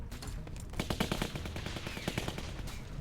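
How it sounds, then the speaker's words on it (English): Assault rifle fire in The Walking Dead video game, rapid bursts of crisp shots in quick succession, somewhat distant and fairly quiet, repeating in two clusters. "Someone has a fucking assault rifle out there?"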